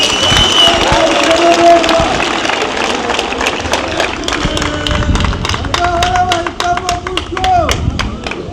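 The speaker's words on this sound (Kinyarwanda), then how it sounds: "Nagira ngo mubanzara amashyi tubashimire." A crowd at a political speech in an arena claps and applauds, a dense steady patter of many hands close and loud, lasting several seconds while a voice carries over it.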